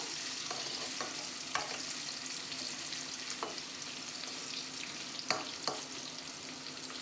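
Vegetables frying in a pan for fish-head pui shak, with a steady close sizzle throughout and occasional scrapes and knocks from stirring.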